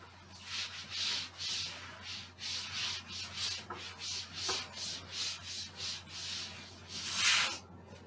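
Writing on a classroom board is rubbed out during a maths lesson. Steady, rhythmic rubbing strokes repeat close by at a low level, with no voices.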